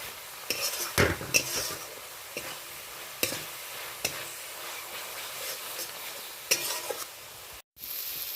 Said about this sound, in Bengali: তেল ছাড়া পর্যন্ত নেড়ে চেড়ে ভালো করে কষিয়ে নেব